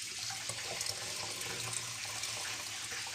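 Hydrogen peroxide pours in a continuous splashing, gurgling stream into a bottle, close and steady for the whole stretch with no voices.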